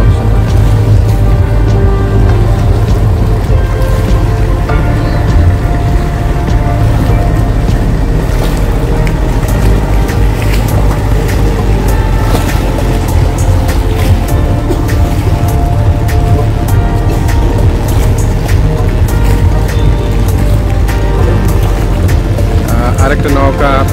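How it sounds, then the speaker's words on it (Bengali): Large sand-carrying river boat approaching the riverbank, its engine a continuous loud low drone with wind and water wash over the whole stretch, close and steady. "একটা নৌকা আপনারা দেখতে পাচ্ছেন এই কিনারে ভিড়বে"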